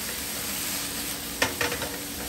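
Carne asada sizzles as it is stir-fried in a home kitchen wok, giving a steady close hiss. A few sharp spatters or stirring scrapes break through midway.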